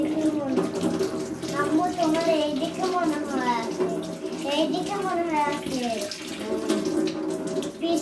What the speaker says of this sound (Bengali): হাতটা ধুয়ে নিলাম